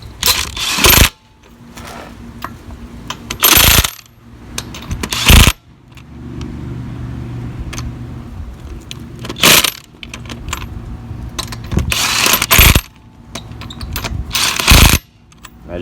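Power tool drives lug bolts on a Ford Escape in a star pattern, with a series of short, loud, close rattling bursts separated by quieter pauses.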